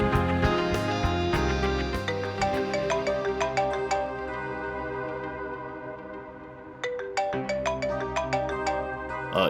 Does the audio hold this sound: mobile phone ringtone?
yes